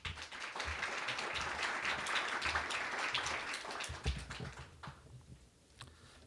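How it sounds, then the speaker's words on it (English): Audience applause for a Korean deputy minister at the Republic of Korea launch of the Human Development Report 2023/24, steady clapping for several seconds that tapers off into a quiet hall. "Please give him a warm round of applause."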